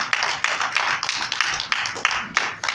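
An audience at a church-style empowerment sermon claps hands, a fairly steady run of loud, close claps with shouted bursts, fading and surging in rhythm.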